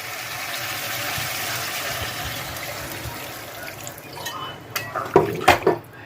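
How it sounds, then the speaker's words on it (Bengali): Water poured into a pan of cooked, fried-down spices makes a steady rushing splash, then ends in a few sharp metallic clatters of the pan and utensil close by. "মশলাটা কষানো হয়ে গেছে এবার জল দিয়ে"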